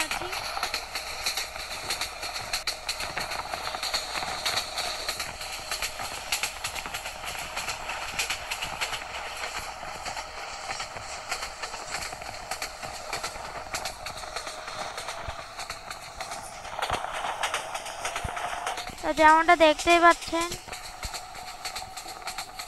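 The Suborno Express in Train Simulator Bangladesh runs at high speed with a steady rolling hum and faint rhythmic clatter, while someone talks over it for much of the stretch.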